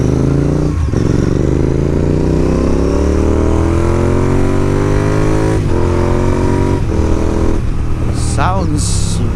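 A Royal Enfield Interceptor 650 or Triumph Bonneville T100 parallel-twin motorcycle engine revs loudly and close by, rising and falling through several throttle sweeps with a throbbing exhaust note.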